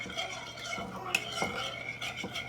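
A spoon stirs honeycomb cake batter in a bowl, with soft scraping swirls and a few light clinks against the dish, quiet and close.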